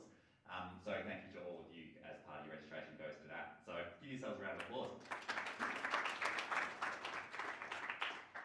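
An audience at the closing of a week of presentations for the Victorian Virtual Emergency Department breaks into sustained, dense applause after a stretch of someone talking.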